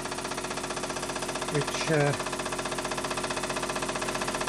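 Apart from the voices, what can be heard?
pre-war Meccano toy steam engine running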